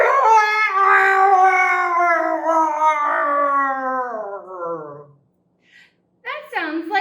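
A person's voice imitates a lion in a puppet show, one long, loud, wavering howling roar that slowly falls in pitch and fades out, followed by brief talk.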